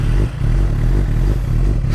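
A Suzuki GSX-R 600 motorcycle engine rumbles loudly and steadily at close range, with no voices.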